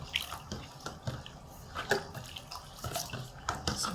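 Stirring a homemade fabric conditioner mixture, with irregular liquid sloshes and small splashes close by, repeating through the whole stretch without any talk.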